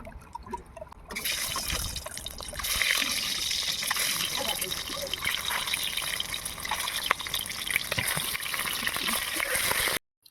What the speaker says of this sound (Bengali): এবারে আমি তেল দিয়ে ডিমগুলোকে একটু ভেজে নেব।